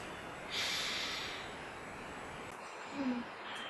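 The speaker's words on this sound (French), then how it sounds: "On prend une grande respiration." Someone draws in a deep breath during a French guided breathing exercise, a long airy inhale rising and fading against a faint hissy background, followed later by a short snort-like exhale.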